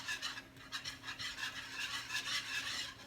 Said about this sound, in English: I'm going to start whisking this together.